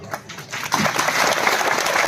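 Audience applause at a Hindi poetry recital, starting light and building to a dense, steady clapping that fills the room through to the end.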